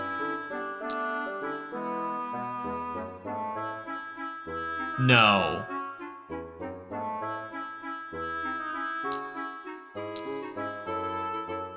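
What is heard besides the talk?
bell ringing sound effect in Xenogears video game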